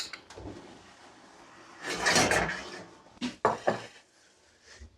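A pan of roasted potatoes comes out of the oven with metallic scrapes, a sliding rattle and a few sharp clanks of pan and rack, close by and intermittent, with quiet gaps between.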